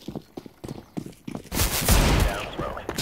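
Gunfire from an online first-person shooter match, a dense burst of shots erupting halfway through and carrying on loud to the end, following quieter sporadic in-game noises.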